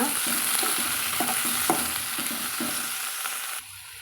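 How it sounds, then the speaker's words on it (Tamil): Tomatoes with salt sizzle in a pan for a spicy mixed chutney, a continuous close frying hiss with a rhythmic series of scraping stirs. "கூட தக்காளி சேர்த்து வதக்கலாங்க"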